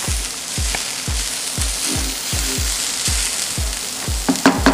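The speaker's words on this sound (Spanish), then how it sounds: "Aquí tengo mi sartén con un poquito de aceite ya precalentado y vamos a poner un poquito de zanahoria rallada" Grated carrot and onion frying in hot oil in a pan, a steady bright sizzle with regular scraping stir strokes about twice a second, close and fairly loud, no voices.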